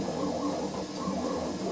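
A steady mechanical whir with faint rhythmic motor buzzing from a Bambu Lab X1 Carbon 3D printer running continuously at low volume.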